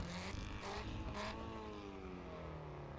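An old-school 2-liter four-cylinder car engine in the racing game Assetto Corsa EVO drones faintly and steadily, its tone sliding slowly lower as it holds.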